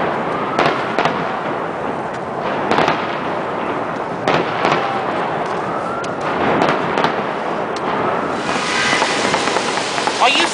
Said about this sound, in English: You missed the fireworks.